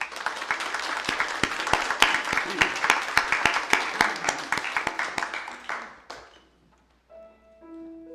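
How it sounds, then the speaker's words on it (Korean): A church congregation claps during a Sunday worship service, loud steady applause that lasts about six seconds and then dies away, followed by a few soft sustained keyboard tones. "우리 박수하겠습니다"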